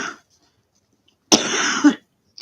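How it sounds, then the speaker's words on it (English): One person coughs up close in a short, harsh burst during a spoken talk, with quiet pauses on either side. "I am so sorry about the coughing."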